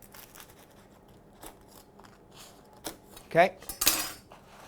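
A knife chopping burger buns in half on a board, a few sharp cutting and clattering strikes near the end, close and fairly loud, with a brief spoken word.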